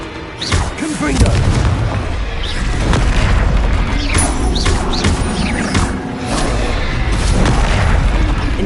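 A Confringo explosion spell from the video game Hogwarts Legacy: a loud, dense run of booming blasts and crashes over about nine seconds, with repeated sharp impacts layered over a continuous heavy rumble.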